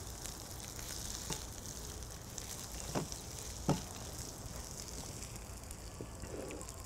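Shrimp with paprika and salt stirred in a pan, a faint steady sizzle broken by a few sharp utensil clicks and scrapes against the pan.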